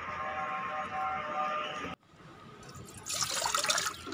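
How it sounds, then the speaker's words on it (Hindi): Water pours steadily into a wok with a bright splashing rush, briefly cutting off, then resuming with a hissier, spattering flow. "कढ़ाई में पानी डालें,"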